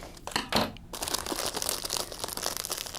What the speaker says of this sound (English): I'm going to cut a little bit of this cellophane away